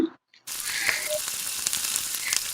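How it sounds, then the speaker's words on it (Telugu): Spices dropped into hot oil in a pan for a prawn curry, bursting into a steady, close sizzle and crackle after a brief silent pause. "నూనె పోసుకుంటున్నానండి రెంబలు వేసుకుంటున్నా"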